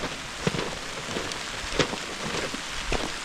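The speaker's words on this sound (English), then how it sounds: "This rain don't seem to be easing off at all." Steady rain patters down along a railway walk beside a deep stone cutting, a continuous wet hiss with a few louder drops landing close by and no voices.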